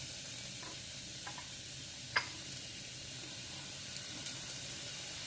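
Chopped aromatics for a Phuket-style chili paste dry-frying in a little oil, giving a soft steady sizzle close by with a few faint clicks of a utensil stirring in the pan; no one talks.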